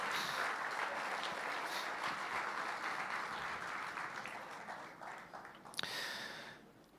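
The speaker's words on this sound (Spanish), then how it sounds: "Fuerte ese aplauso de alabanza al Señor." Congregation at a church service applauding in praise of the Lord, a broad sustained wash of clapping from a hall full of people that thins and fades toward the end, quiet and without talk.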